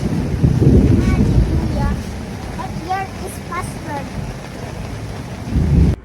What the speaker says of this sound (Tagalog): sobrang lakas na nga ng kulog sa kakidlat